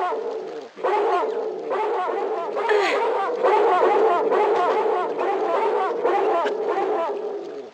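Dog barking in the Tomb Raider 2 video game, in Bartoli's Hideout: a steady run of loud, close yips and barks mixed with whimpering, continuous for several seconds over no talk.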